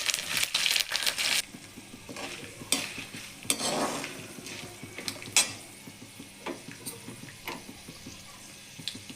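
Turmeric, dry red chillies and curry leaves fry in a pan, with close spoon stirring scrapes and clicks over a soft sizzle, heavier at the start and thinning into sporadic taps.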